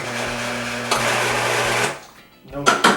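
A twin gear juicer grinds carrots, a loud, steady mechanical whir that runs for about two seconds, drops away, then returns in short bursts.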